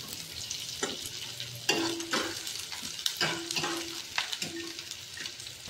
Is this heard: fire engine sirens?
no